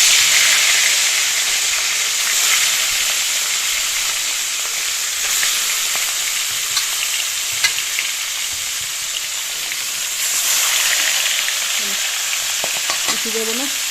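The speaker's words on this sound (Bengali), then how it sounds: "কিছু দেবো না, ভেজে নিই মাছটা" Rohu fish from a village wetland frying in a generous amount of hot leftover oil, a steady broadband sizzle that holds evenly for the whole stretch, close and loud, with a few faint clatters near the end.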